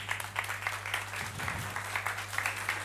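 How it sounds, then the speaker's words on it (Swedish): A short burst of audience clapping at a public panel discussion on rural life and smart cities, steady and moderately loud with individual claps audible in the mix, and no speech over it. "Ge dem en varm applåd."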